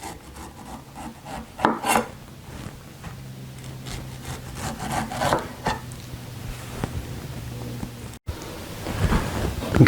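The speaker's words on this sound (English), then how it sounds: "I'm simply going to cut that core out on each one" A knife cuts the cores out of fruit, cutting in about half an inch, making scattered rubbing, rasping strokes and soft knocks close by over a low background hum, with no speech.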